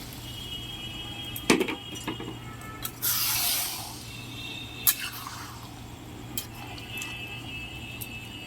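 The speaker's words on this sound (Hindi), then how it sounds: "पानी ढालीदबा" Water is poured into fish curry cooking in a pot, a brief close gush and splash standing out over a quiet kitchen background with a few scattered clinks.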